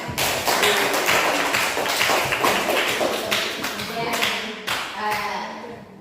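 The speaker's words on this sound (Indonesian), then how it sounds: "tepuk tangan untuk kalian" A classroom of students bursts into applause, dense loud clapping that fills the room steadily and tapers slightly toward the end, with voices mixed in.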